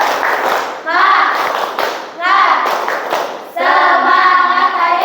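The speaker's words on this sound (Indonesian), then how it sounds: "kita tepuk semangat dulu ya" A classroom of children does a tepuk semangat clapping chant, rhythmic group claps in short bursts mixed with loud chanted voices, close and lively.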